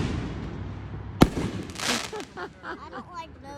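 Fireworks are set off outdoors by a home crowd. One sharp, loud bang is followed by crackling bursts and fizzing whistles, and voices are heard in the background.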